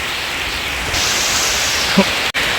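Heavy rain pouring in a forest, a dense even hiss that swells louder after the first second and holds steady, with a brief dropout near the end.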